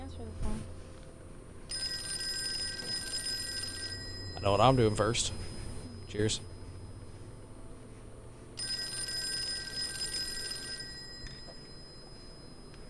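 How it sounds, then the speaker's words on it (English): A telephone rings in the Call of Cthulhu video game, two long bursts of ringing separated by a pause, with people talking briefly in between. "You're gonna have to answer the phone."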